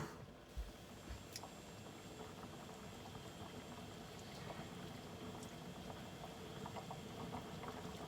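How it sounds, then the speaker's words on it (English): A pot of stock comes back to a steady boil, with a continuous, soft bubbling and rumbling roll that holds evenly throughout, close but low in level with no talk. "it's back to the boil, so I've got the last bit of the scum forming on the top"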